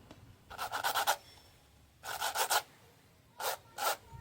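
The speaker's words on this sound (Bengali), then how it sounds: "প্রথমে এই ব্রাশটা দিয়ে ঘষে আমি একটুখানি পরিষ্কার করে নিলাম" A brush scrubs a rudraksha bead in short rhythmic bursts of rapid rasping strokes, with three groups separated by brief pauses, close and fairly loud.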